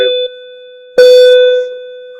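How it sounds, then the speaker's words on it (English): A building's bell system rings loud and close in two electronic tones: a first short tone, a brief gap, then a stronger second strike that sustains and slowly fades. "Please disregard that bell."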